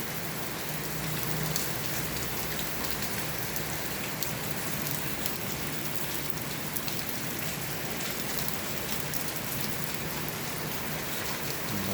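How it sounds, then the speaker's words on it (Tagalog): Heavy rain pours down steadily, a dense, loud, continuous hiss of drops drumming on surfaces with no break. "Malakas ang ulan."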